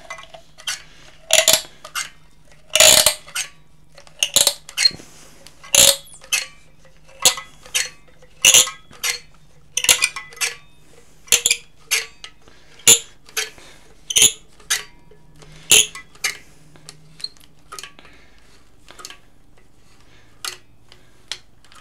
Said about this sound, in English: Please excuse the noise of the caulk gun.